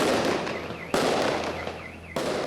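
Fireworks burst in sharp loud cracks, three blasts spaced about a second apart, each trailed by crackling rumble and a faint whistle, in a village in Hancheng, China.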